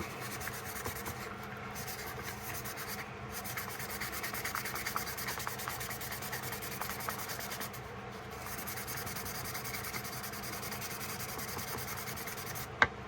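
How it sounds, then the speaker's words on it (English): Steady, continuous rubbing and scraping of sandpaper against a jack knife blade, close and even, with brief pauses in the strokes. "I feel like this blade needs a little bit more sanding."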